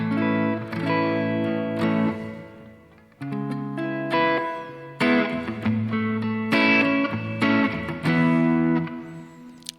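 Clean electric guitar notes and chords played through a Tone Master Pro convolution reverb ring out with a spacious, lingering reverb tail, played in phrases with brief pauses between.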